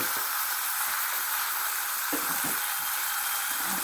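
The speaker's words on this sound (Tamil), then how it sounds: "தக்காளியை போட்டு நல்லா வதக்கணும்." Tomatoes sautéing in a pan, a dense, even, close sizzle throughout, with a few soft stirring knocks near the end and no talk.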